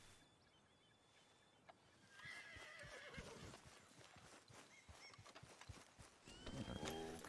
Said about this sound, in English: Let's call my horse.